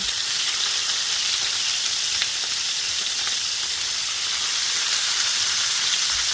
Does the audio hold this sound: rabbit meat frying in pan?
yes